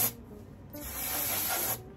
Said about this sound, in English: This is dry shampoo, and you're gonna get to the roots and start spraying.